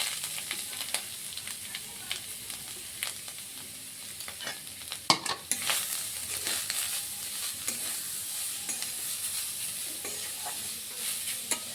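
Grated beetroot and carrot being stir-fried with fried spices in a pan for Bengali vegetable chop, a soft sizzle under repeated scraping stirs and clinks of a spatula, close by, with no talking.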